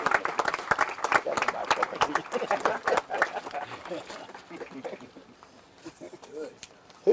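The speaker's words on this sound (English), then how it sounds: "Everyone, round of applause." Crowd applause at an outdoor Memorial Day service for a county honor guard unit, scattered claps building then thinning out over several seconds, with voices talking over the end.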